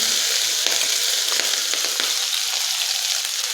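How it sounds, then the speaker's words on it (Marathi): Green chili paste fries in oil with popped mustard seeds over low heat, a dense, even sizzle close by with faint stirring scrapes and no talk. "हे वाटण चांगलं परतून घ्यायचं आहे दोन ते तीन मिनिट कमी गॅसवरती परतून घ्यायचं आहे"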